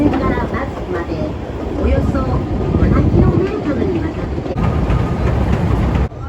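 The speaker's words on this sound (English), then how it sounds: "It's an open-air train through the Japanese Alps." The open-air Kurobe Gorge Scenic Railway train rumbles and rattles along the tracks through the Japanese Alps in a steady, loud roar, with wind noise throughout and faint voices mixed in.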